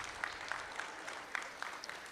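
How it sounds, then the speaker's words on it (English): Audience at a state fair market hog show and showmanship event claps for a youth division, faint scattered applause with a few sharper individual claps standing out. "let's give this division here a nice round of applause there for their accomplishments"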